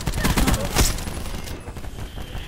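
Rapid bursts of gunfire in Call of Duty Black Ops 4, loud and close, with a heavy volley in the opening second before the shots thin out, and a voice talking faintly underneath.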